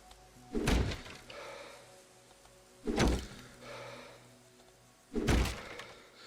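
Three separate dull thunks of items dropped in the video game Darkwood, evenly spaced about two seconds apart, each short and fairly loud against near-silence.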